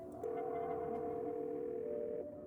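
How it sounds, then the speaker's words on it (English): A phone's ringback tone sounds as a single long steady electronic beep, lasting about two seconds over faint room hiss, alone without talk. "Let's call Stella."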